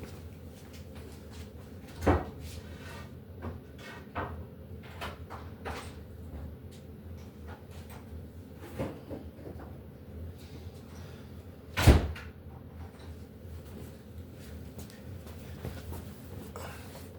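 A door at home being opened, heard as a couple of sharp knocks or thuds spaced well apart in an otherwise quiet room, with no one speaking.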